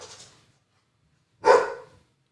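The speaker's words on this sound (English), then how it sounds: "barking dog" A dog barks twice, a softer bark first and then one loud, close single bark after a pause of quiet.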